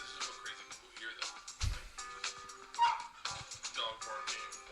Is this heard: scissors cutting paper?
no